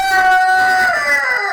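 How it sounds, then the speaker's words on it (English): A rooster at a homestead crows once, loud and close, in a single sustained drawn-out call that falls slightly in pitch toward the end. "he's up underneath there crowing"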